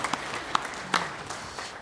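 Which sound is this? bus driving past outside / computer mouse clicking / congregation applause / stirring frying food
congregation applause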